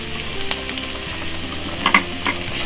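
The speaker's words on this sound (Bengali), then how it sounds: "একটু নেড়ে দুটোকে একসাথে মিশিয়ে দেব" Onion and carrot frying in a pan while being stirred, a steady close sizzle broken by a few scraping clinks of the spoon, with no one talking.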